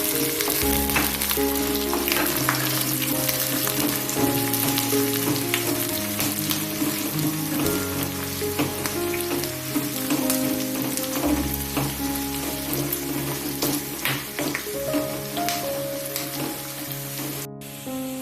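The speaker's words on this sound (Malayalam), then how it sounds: "ഇഞ്ചി, അതുപോലെ തന്നെ പച്ചമുളകും ചേർത്ത് കൊടുക്കുക. നന്നായി വഴറ്റി കൊടുക്കുക." Chopped ginger and green chillies sautéing in a pan for a dates pickle, a steady loud sizzle and crackle of frying with occasional stirring scrapes throughout, no voices.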